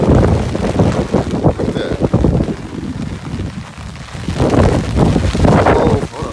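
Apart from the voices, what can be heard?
strong hurricane wind blowing over a lake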